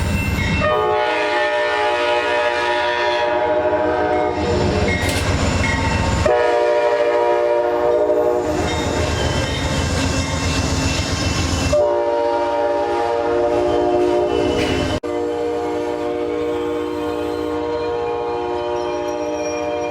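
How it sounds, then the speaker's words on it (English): An Amtrak passenger train pulling into the Springfield, Illinois station rumbles steadily nearby as its horn sounds in long, loud blasts, with wheels clattering on the rails throughout. "where a passenger Amtrak train is pulling in"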